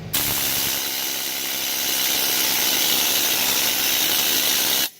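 A loud, steady mechanical rattle of a pneumatic needle scaler hammering on metal, running continuously for about five seconds and then cutting off abruptly.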